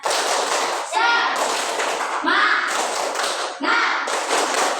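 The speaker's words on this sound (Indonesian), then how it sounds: "Tepuk semangat." A class does the 'tepuk semangat' spirit clapping routine: loud, close bursts of rhythmic group clapping alternate with the children's chanted call between the bursts.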